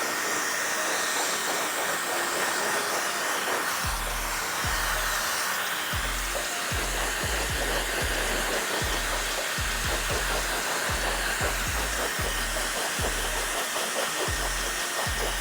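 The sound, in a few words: blow drying hair with a hair dryer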